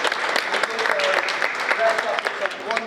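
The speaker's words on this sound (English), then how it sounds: "Give yourself a big round of applause, please, people." Audience applause at a multicultural week event, steady dense clapping throughout with voices and chatter mixed in underneath.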